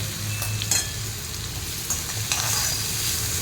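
Chopped onion with salt and asafoetida sizzles steadily in a pan while a spatula stirs it for upma, with scraping sweeps and light clinks over the continuous frying hiss, close and without speech.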